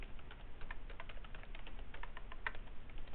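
Quiet, close fingers type on a computer keyboard, tapping out a brisk, irregular run of light key clicks with no voices.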